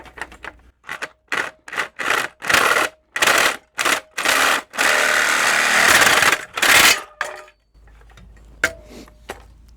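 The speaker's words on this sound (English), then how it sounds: "Hopefully my Sawzall, I think it's got the right kind of blade, will cut that." Cordless Sawzall reciprocating saw cutting through aluminum, heard as a series of short loud bursts separated by brief pauses, then a longer sustained cut before it stops.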